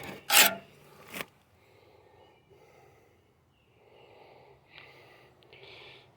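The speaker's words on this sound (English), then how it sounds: "you shouldn't be able to take paint off of much of anything with a scraper like this" A hand scraper rasps paint off a John Deere LA115 mower deck in two loud, harsh strokes up close, followed by softer, fainter scraping.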